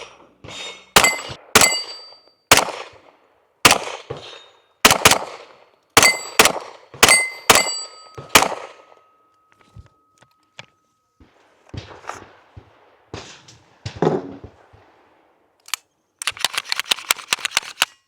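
A Ruger handgun fires a string of sharp, loud shots in quick irregular succession, followed by quieter clinks and handling noises, then a final rapid burst of close shots.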